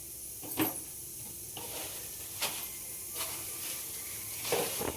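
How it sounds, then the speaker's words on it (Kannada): Cinnamon and cloves sizzling in hot oil for tempering chicken fry, a steady soft hiss with a few brief louder crackles, close and alone without talk. "ಇಷ್ಟು ಚಕ್ಕೆ ಲವಂಗ ಒಗ್ಗರಣೆ ಹಾಕೊತಾ ಇದ್ದೀನಿ."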